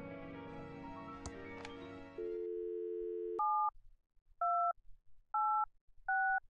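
Telephone dialing in the adventure game Thimbleweed Park: a steady tone gives way to four crisp, evenly spaced keypad beeps, loud and isolated.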